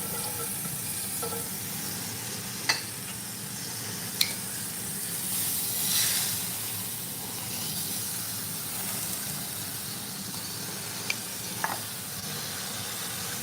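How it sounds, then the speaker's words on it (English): Steak sizzles steadily in a greased pan for tacos, a continuous close frying hiss with a few sharp ticks and pops scattered through. "Get a little bit more grease on the pan."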